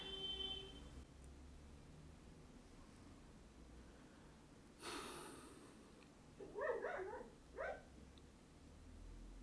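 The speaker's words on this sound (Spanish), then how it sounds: "Y encima ladra mi perro" A dog barks indoors a couple of times, in short, fairly faint bursts near the end, against a quiet room background.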